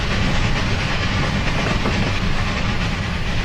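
Pennsylvania K4 steam locomotive running on Horseshoe Curve in Train Simulator 2015, a loud steady roar of wheels and hissing steam with continuous rail rumble, no voices.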